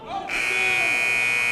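Basketball game buzzer sounding at the end of a period, a loud steady electronic tone that cuts in after a brief moment and holds through to the end under gym noise.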